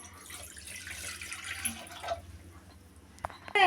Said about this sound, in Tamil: முதல்ல தண்ணி ஊற்றிக்கிறேன்.